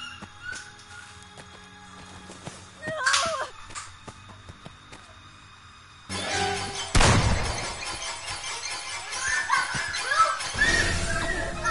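Glass shattering in the Friday the 13th game, a sudden loud crash of breaking glass followed by scattered tinkling and rattling debris, amid other in-game noises.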